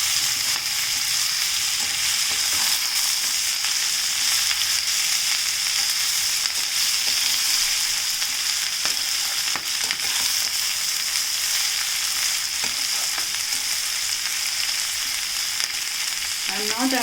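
Taro leaves (bachali) frying and being stirred in a pan on a stovetop, a steady close sizzle running throughout with occasional scraping and stirring clicks.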